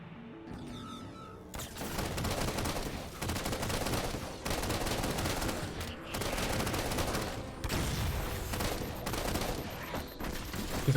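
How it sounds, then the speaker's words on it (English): Sustained automatic gunfire from a machine gun in the video game Halo 4, loud bursts of rapid shots repeating in waves for most of the stretch after a quieter opening. "I think it's like a machine gun"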